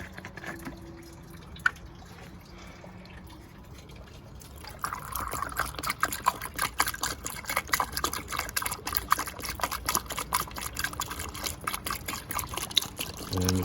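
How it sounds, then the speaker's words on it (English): Coolant and flush water trickling and dripping steadily out of a Seat Ibiza 1.2 MK3 cooling system as it drains, a close, continuous patter of liquid that grows louder and busier partway through. "As you can see, the water's coming out."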